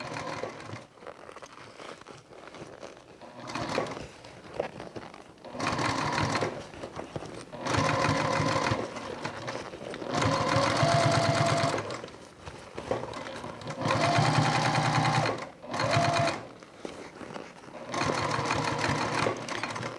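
A sewing machine stitches the side and top panel of a toiletry bag in several bursts of running, with short pauses between them. The clatter is loud and close.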